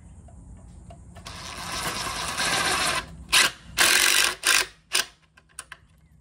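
A power driver sinks a screw while a remote is mounted during installation: a whirring run of a few seconds, then several short, sharp bursts of driving in quick succession, close and fairly loud.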